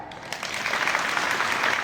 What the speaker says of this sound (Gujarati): તમારા માટે તાળી.